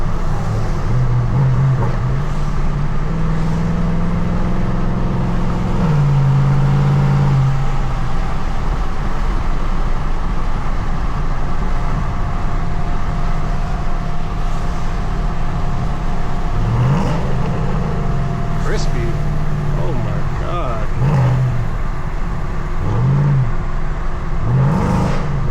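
A straight-piped Camaro SS roars loud and close, its V8 engine revving repeatedly and climbing in pitch as the car accelerates, with a constant raw exhaust drone throughout.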